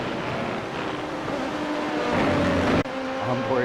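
Race cars in a racing video game charge through turn 6 at Laguna Seca, a steady engine drone with sustained revving and a faint rising whine near the end.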